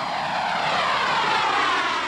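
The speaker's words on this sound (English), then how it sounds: "This is a pilot's airplane." A propeller airplane flying aerobatics drones steadily overhead, a loud, continuous engine and prop roar with a slight wavering pitch.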